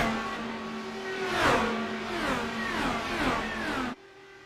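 IndyCar race car engines in the iRacing game at Homestead, several cars whining past at high revs with pitch sweeping up and down through shifts and passes, loud and continuous before cutting off abruptly near the end.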